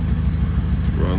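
A Ford Falcon Club Wagon engine, first started after sitting 10 years, idles low and steady with an even pulsing beat, close and fairly loud, running smoothly throughout.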